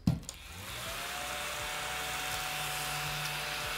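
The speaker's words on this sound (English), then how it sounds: "This is my little vacuum for Ravensburger puzzles" A small handheld vacuum for clearing dust off jigsaw puzzles starts with a click and spins up into a steady, close high-pitched whine that holds evenly to the end.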